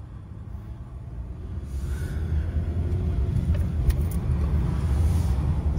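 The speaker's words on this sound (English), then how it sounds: "I'm gonna drive around right now either way" A car drives through a residential neighborhood in the northern part of Fountain, its steady engine and road rumble heard from inside the cabin, continuous and gradually swelling a little louder.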